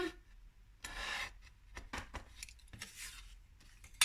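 Packaging material being cut for wrapping a mug, heard as a series of short rasping, rubbing strokes with small bursts and pauses, close and fairly quiet, with no voices.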